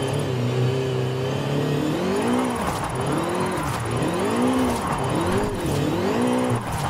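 A car in a racing video game slides through a drift zone, its engine droning and rising and falling in pitch with steady tire noise, loud and continuous with no one talking.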